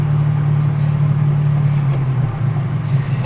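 A car fitted with an off-road exhaust drones with a steady low engine hum, heard from inside the cabin, holding constant with a slight dip and waver toward the end and no talking.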